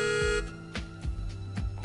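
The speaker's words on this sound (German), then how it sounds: "Die Hupe." Car horn in the racing game Test Drive Unlimited, sounding three short honks about half a second apart, each a brief tonal blast over steady game engine hum.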